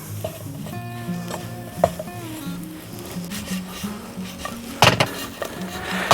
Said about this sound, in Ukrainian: Добре перемішуємо, щоб кожен шматочок добре окутало вершкове масло.